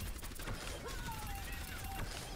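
Orisa's primary weapon in Overwatch firing a rapid stream of shots, heard as a steady rattling barrage at moderate level, with a faint whistling tone drifting through the middle.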